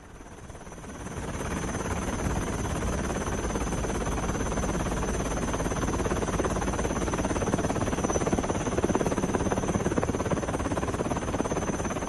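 A steady helicopter drone holds throughout, a dense continuous whir with a faint high whine on top, no voices.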